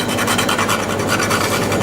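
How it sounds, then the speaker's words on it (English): Fresh whole nutmeg scraped over a small nutmeg grater, a close, steady rasping with quick repeated strokes and no talking. "I've got my own little nutmeg grater"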